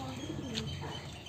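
Pigeons on a rooftop loft give low, rolling coos, a steady close murmur that runs through the whole short stretch.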